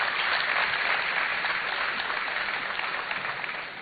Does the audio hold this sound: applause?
yes